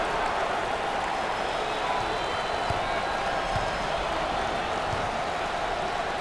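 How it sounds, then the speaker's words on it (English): A basketball arena crowd at an NCAA tournament game between Texas A&M and Houston gives a steady, dense murmur after a missed three-pointer, with no single cheer or clap standing out. "The crowd's reaction says it all."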